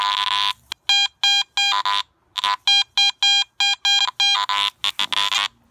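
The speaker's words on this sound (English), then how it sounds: "So now we'll turn the iron audio on." A loud, steady electronic tone pulses in rapid on-off bursts, repeating over and over as a Garrett AT MAX metal detector's iron audio responds over iron and a lump of foil, with no talking.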